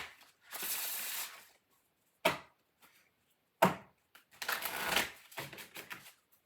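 Spellcasting oracle cards being shuffled, with several separate bursts of riffling and sliding card noise, each a second or so long, broken up by sharp taps of the deck, close and fairly quiet, with no voices.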